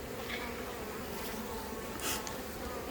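Honeybees flying into the hive carrying pollen, a close, continuous buzzing hum of many wings with a few louder passes.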